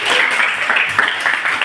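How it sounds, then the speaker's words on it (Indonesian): A classroom of students claps together in a brief burst, a dense patter of hands that stays loud and fairly even throughout. "tepuk tangan untuk saya"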